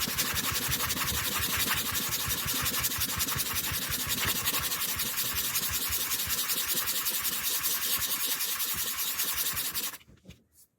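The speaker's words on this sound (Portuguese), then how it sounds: "A primeira lixa eu gosto de fazer ela seca" Sandpaper rubs dry on a handmade jewelry piece containing hair and ashes in rapid, steady back-and-forth strokes, close and constant for about ten seconds before stopping abruptly; no talking.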